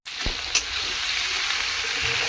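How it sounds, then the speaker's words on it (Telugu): Green chillies and tomato frying in a pan of hot oil, a loud, continuous close sizzle that starts abruptly and holds steady, with a brief knock of stirring near the start. "పచ్చిమిర్చి టమోటా కూడా వేసుకొని బాగా ఫ్రై చేసుకోవాలి"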